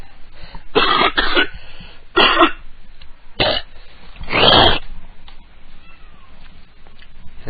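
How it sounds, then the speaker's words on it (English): Someone hawking and spitting phlegm into a garbage can, with several harsh, raspy throat-clearing bursts and spits in irregular bursts, close and fairly loud over a noisy background. "that was the sound of me spitting phlegm into the garbage"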